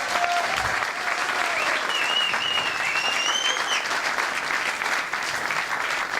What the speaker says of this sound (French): Alors on va pas arrêter d'applaudir